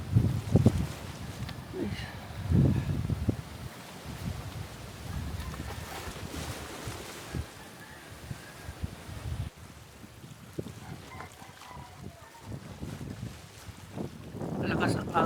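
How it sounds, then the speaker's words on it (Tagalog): Strong typhoon wind sweeps across a camping beach, roaring and buffeting the microphone in uneven gusts throughout, with faint surf and low rumbling beneath and a few muffled voices. "Malakas ang hangin guys. Dahil may bagyo kasi ngayon, yung bagyong Ana."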